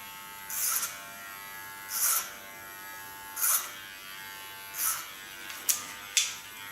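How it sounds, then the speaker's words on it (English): An electric hair clipper buzzes in a steady high whine, with short louder bursts roughly every second or so as it cuts a boy's hair, close and fairly quiet. "I also hold my comb when I work with the clipper in that line."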